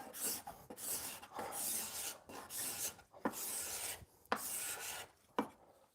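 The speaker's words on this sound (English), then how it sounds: "when you use an old cabinet scraper, you want to get a little bit of bend in there" An old cabinet scraper flexed with a slight bend rasps across wood in a series of short, close strokes, each pass a dry scraping sweep separated by brief pauses, pulling off thin shavings.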